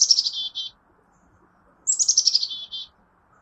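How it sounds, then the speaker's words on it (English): A chickadee in a Portland backyard in fall gives two short runs of high, buzzy chick-a-dee notes. The notes are separated by a quiet pause and sound clear and fairly close. "they say their own name when they're in the front yard. So they will say chickadee-dee-dee"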